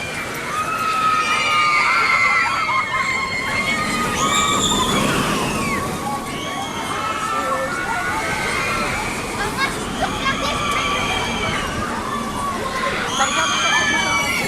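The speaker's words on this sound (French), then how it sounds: "au moins c'est une attraction qui arrive à faire crier 10 filles en même temps" At a crowded Halloween-season amusement park, a group of about ten girls scream together on a ride, loud overlapping high-pitched shrieks rising in bursts over rushing water and crowd noise, with talking mixed in.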